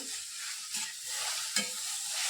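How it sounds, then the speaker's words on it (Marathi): Onion and tomato sizzle as they sauté together in a pan for a dhaba-style matar paneer gravy. A steady close frying hiss runs throughout, with a couple of brief spoon-stirring scrapes and no talking. "आणि परत एकदा आपण दोन मिनटासाठी कांदा टोमॅटो परतून घेणार आहे"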